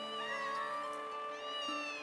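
A kitten meows in a film scene, one long, high, drawn-out cry that wavers in pitch, steady and clear at moderate loudness with no talk over it.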